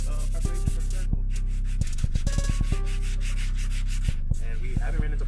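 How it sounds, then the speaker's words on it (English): A car body coated in chalkboard paint, an Infiniti G37 sedan, is dry-scuffed and sanded smooth before a third coat. Steady close rubbing and scraping runs throughout, with brief pauses and pitched squeaks from the surface. "It's literally just sanding it down, getting everything smooth."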